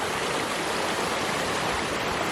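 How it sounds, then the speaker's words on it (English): Pretty waterfall on a North Carolina trout stream roars as a steady, dense rush of falling water, close and continuous with no talking. "Pretty waterfall"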